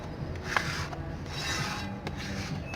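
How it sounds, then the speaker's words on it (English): A hand scraper works clear coat softened with acid off the surface of a ship propeller in a shipyard, making close, uneven rasping and rubbing strokes with small scratchy clicks. "Now I'm using acid again and a scraper to soften and remove the clear coat that's been applied to the surface."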